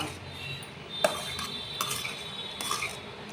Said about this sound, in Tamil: இப்போ நான் கிளறேன் பாருங்கள்